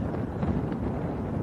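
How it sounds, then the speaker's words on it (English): Low, rumbling wind buffets the microphone in steady gusts at Leeds Bradford Airport, a muffled blustery roar with no voices. "as you can probably hear over the mic, it's rather blustery"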